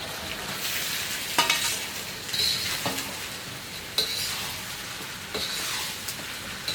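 Cooked rice is stir-fried with vegetables and sauce in a pan, giving a continuous close sizzle with a few sharp scrapes and clinks of the spatula, and no talking.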